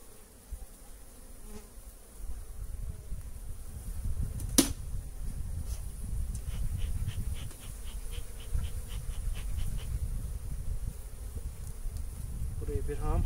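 Honeybees buzzing steadily around an opened hive during early spring colony inspection, a continuous close insect drone with a sharp brief click near the middle and faint voices underneath.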